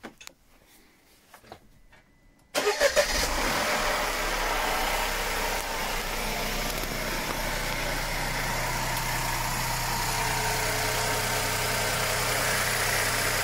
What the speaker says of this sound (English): then we'll run the engine, check the oil light goes out straight away